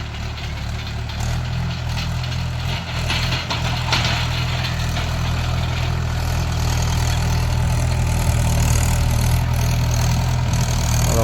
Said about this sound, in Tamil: இங்கே பாருங்கள் வண்டி அந்த ஜங்குது இந்த கல்லில் போட்டு இழுக்க.